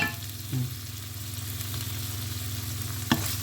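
Pork ham stir-fried with wild garlic flowers and chili in a hot pan, giving a steady close sizzle and crackle with a couple of brief utensil scrapes, with no voices.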